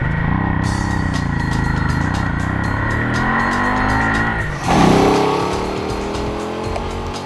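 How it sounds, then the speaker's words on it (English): A Hyosung Aquila 250 motorcycle with a fuel-injected, short-stroke 75-degree 249cc V-twin, heard while riding. The engine drones loudly as its pitch rises, then a sharp surge near the end is followed by a lower, steady pull. "at the heart of this motorcycle is the 75-degree V-twin 249cc motor"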